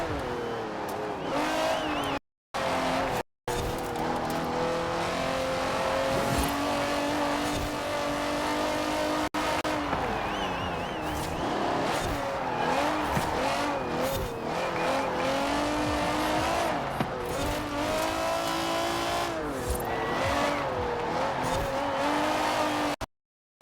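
Race car engine in Forza Horizon gameplay, a continuous loud roar that rises and falls with gear shifts and acceleration through a lap, with brief tire noise.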